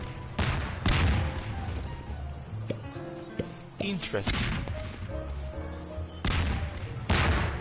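Repeated game explosions in Garry's Mod's Melon Bombers mode, several sharp booming blasts in clusters across the clip, loud and close, with a brief spoken word in between.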